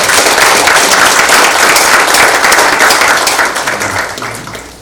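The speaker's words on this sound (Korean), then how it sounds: "우리 박수로 한번" An audience claps warmly at a Korean Christian lecture gathering, loud and dense from the start, then gradually thinning and fading toward the end.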